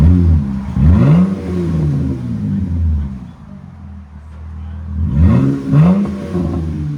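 A RAM 3.6L V6 fitted with a Black Widow Neighborhater muffler idles close by, giving a steady deep exhaust drone with a couple of brief swelling pulses.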